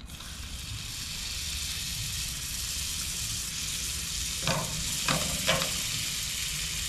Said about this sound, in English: Now for the coots to go into the pan.